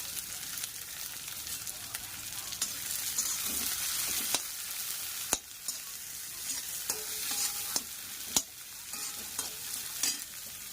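Chow mein is stirred and fried in a hot wok with little oil, a steady sizzle broken by sharp scrapes and clanks of the utensil against the pan, close by and without speech.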